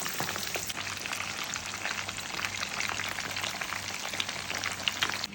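Fish sizzles steadily in hot oil, a dense crackling spatter that carries on without a break, with a faint low hum running underneath.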